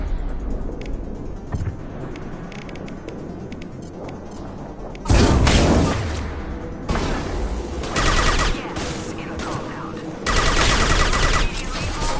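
Sustained bursts of heavy gunfire from Krogan enemies in a Mass Effect 2 firefight, loud and close, surging in several waves with rattling automatic fire and booms, with voices talking in between.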